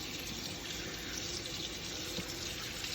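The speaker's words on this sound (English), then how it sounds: "So turn on the water, make sure it's nice and warm." Warm water runs steadily from a sink tap, a constant close hiss and splash with no breaks and no voices.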